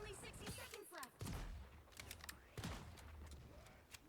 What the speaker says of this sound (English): Taking shots down range